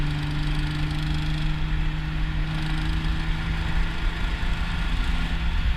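Steady engine drone from inside a Triumph TR6 on the road, a constant low hum with a faint tonal whine, even and continuous with no clear rise in pitch, no talking.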